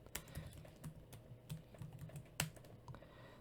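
Quiet, close typing on a computer keyboard during a hacking challenge: a short run of light, irregular key clicks with one firmer tap near the end, no voices.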